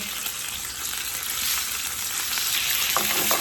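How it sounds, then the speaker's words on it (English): Unseasoned salmon fillet searing skin side down in a pan over high heat with oil, giving a loud, dense, continuous sizzle close up, with no talking. "I'm adding it straight down, skin side down, into our pan"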